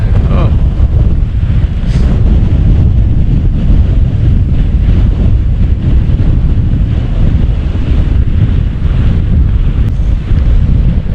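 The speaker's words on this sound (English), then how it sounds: "So this wind outside is not subsiding at all." Strong wind at a lake in a state park, a loud continuous roar buffeting the microphone with a low rumble of whitecap waves beneath, unbroken from start to finish.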